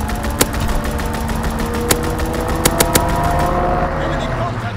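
Call of Duty WWII multiplayer match: a steady drone of aircraft engine or vehicle noise runs throughout, while several sharp gunfire cracks and impacts burst out at irregular moments across it.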